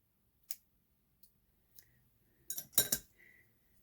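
Scissors snip off a yarn tail after crochet work: a few faint isolated clicks, then a brief cluster of sharper metallic snips, quiet and close.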